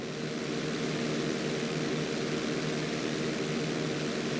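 A plane in GTA V flight school gives off a steady, unbroken engine roar with a constant droning hum that holds level throughout, with no other sounds over it.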